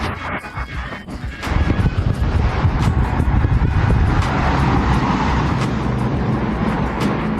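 Cars roar past on a road near the Mount of Olives in Jerusalem, a rising rush of tyre and engine noise building after a quieter start and staying loud, with wind buffeting the microphone.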